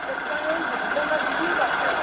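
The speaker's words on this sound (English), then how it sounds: "your vehicle was rattling, it sounded like there was a defective exhaust system" A vehicle with a defective exhaust system rattles and hums steadily at idle, a continuous close mechanical buzz with faint metallic chatter running through the whole stretch.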